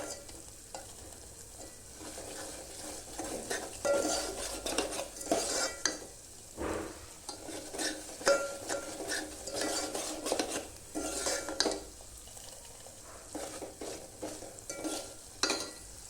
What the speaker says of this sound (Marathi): कमी गॅसवर हा छानसा रंग येऊपर्यंत रवा भाजून घेते